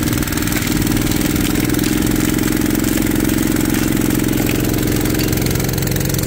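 Engine of a 2-inch pump on a gold dredge running near maximum revs on a river in Bulgaria, a loud, steady, close drone with a rapid knocking pulse throughout.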